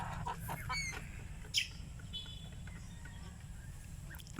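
Rhode Island Red chickens in a backyard flock, faint scattered clucks and a few short higher calls at a distance over a quiet outdoor background.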